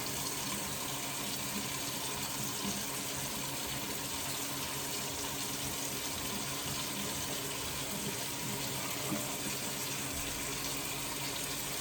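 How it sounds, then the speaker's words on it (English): Tap water runs steadily over canned Palmini hearts of palm being rinsed in a sink, a continuous close splashing gush with no talking. "You want to make sure you rinse this Palmini off really well."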